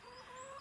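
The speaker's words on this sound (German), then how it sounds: "das ist mein Huhn" A hen, one of a flock of about sixty, gives a short soft tonal cluck, a single brief vocal note heard close up in a quiet setting.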